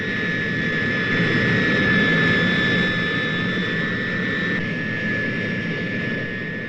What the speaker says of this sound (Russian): Следом за носителем в воздух поднимается самолет-лаборатория.